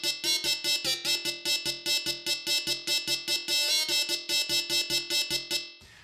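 A bright synth lead built in SynthMaster One, with a phaser and delay giving it a metallic edge, plays a steady, rapid stream of staccato notes in an even pulse for several seconds, dense in high overtones, before stopping abruptly.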